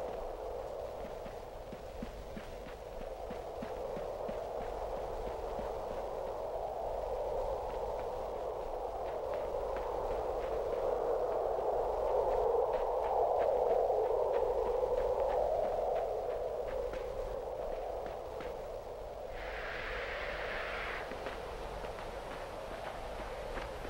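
A soft, steady wind whooshes through a scene in the video game Limbo, a low airy rush that slowly swells and fades with faint ticking textures beneath it.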